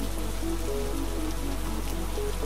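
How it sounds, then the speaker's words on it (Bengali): Steady, continuous rain in a Bengali fairy-tale cartoon, an even, dense hiss of falling drops with no voices, holding at a constant level throughout. "এরপর একটানা বৃষ্টি হতে লাগলো।"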